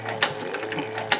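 An Artisan Toro 3200 sewing machine stitches leather slowly, giving a steady mechanical clatter. Sharper ticks come as the needle drops, close and fairly loud.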